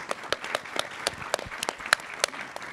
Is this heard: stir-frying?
no